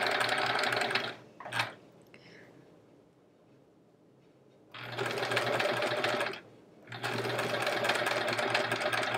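A sewing machine stitches quilt pieces with a quarter-inch seam allowance, running in three loud, steady bursts separated by a quiet pause and a brief stop.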